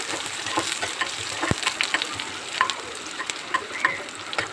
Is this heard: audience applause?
no